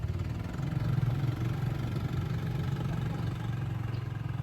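A motorcycle idles close by with a steady low rumble and even mechanical throb that holds without a break throughout, with no voices over it.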